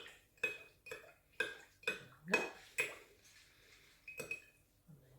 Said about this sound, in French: quand je mélange dans le verre numéro 3